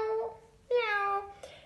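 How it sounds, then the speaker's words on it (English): A cat gives two clear meows, the second longer and higher, followed by a brief short chirp, close and distinct against a quiet background. "This is Cat."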